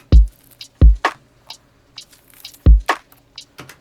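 Layered drum loops from an electronic track play together: deep kick thumps land at an uneven, looping rhythm, each followed by crisp clicky percussion and hissy hits, loud and close with no voices.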